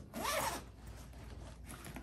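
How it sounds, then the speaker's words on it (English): A zipper pulled along a compartment of a shoe bag, one quick close zip followed by faint lingering rustle of fabric, near and clear with no talking. "I'm gonna zip up these compartments"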